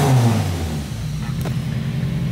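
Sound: car engine idling

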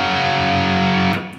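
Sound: distorted electric guitar playing part of a riff

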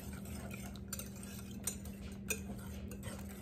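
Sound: whisking egg mixture with Parmesan cheese

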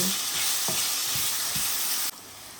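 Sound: garlic paste frying in a pan

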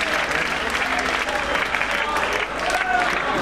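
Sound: concert audience applause

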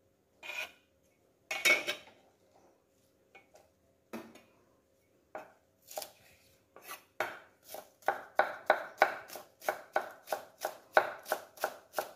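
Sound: knife chopping vegetarian sausage

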